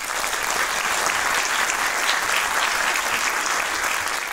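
Steady applause fills an awards-show hall for the Golden Menemen Awards, a dense even wash of clapping from a large audience, sustained and moderately loud without a break and no clear voices.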